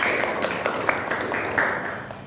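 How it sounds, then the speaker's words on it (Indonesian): A classroom of students gives a short round of applause, a soft continuous patter of many hands with faint voices mixed in. "Beri tepuk tangan dulu Mbak Isa"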